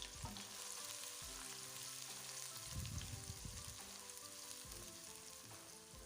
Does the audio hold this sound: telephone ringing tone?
no